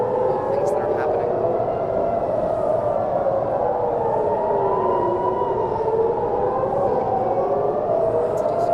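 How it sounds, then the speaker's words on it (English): Loud sirens wail continuously during the Trump birthday military parade, their pitch sweeping slowly up and down in overlapping tones, with occasional faint voices beneath. "the sirens are very loud"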